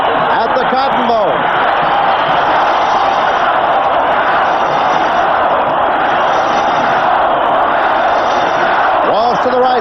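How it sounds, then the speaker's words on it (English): A large stadium crowd roars continuously at a Cotton Bowl college football game between Alabama and Texas, a dense, steady wall of cheering and shouts with occasional whoops rising above it. "This crowd is really alive at the Cotton Bowl."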